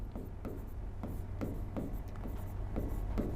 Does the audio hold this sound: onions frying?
no